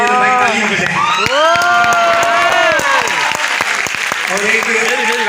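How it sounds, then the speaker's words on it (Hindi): Audience applause and cheering after a university drama play at Bahria University, a dense wash of clapping with whoops and shouts throughout, with someone talking over it. "उसके लिए तो भाई तालियां बजाएं"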